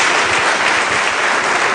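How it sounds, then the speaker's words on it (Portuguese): A church congregation applauds Jesus in a loud, dense, continuous burst of clapping that fills the room with no voices over it. "Dê uma salva de palmas a Jesus"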